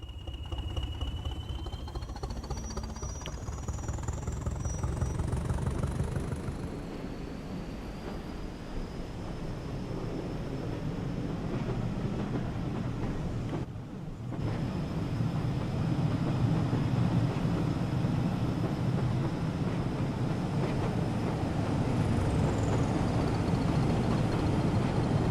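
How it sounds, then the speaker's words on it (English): Diesel locomotive engine in Train Sim World on the West Somerset Railway, a steady low rumble with high screeching wheel slip, loud and sustained throughout with a brief dip midway. "I think the sound of screaming wheel slip overtook the sound of the nice engine on this thing."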